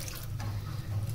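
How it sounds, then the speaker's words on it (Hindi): Water is added to a besan (gram flour) batter for potato and boondi pakoras, a soft, steady liquid trickle lasting about a second with a low background hum and no talking. "थोड़ा सा पानी और शामिल करेंगे"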